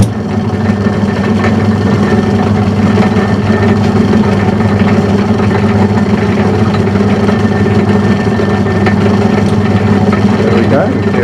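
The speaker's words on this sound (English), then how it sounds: "Now I'm going to start this in back gear, so everything is running." A metal lathe runs in back gear with its change gears engaged, giving a steady, loud mechanical hum and whir that stays constant throughout, close up, with no talking.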